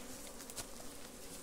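A growing bee swarm buzzing in an apiary, a steady dense hum filling the whole moment, close and continuous with no talk.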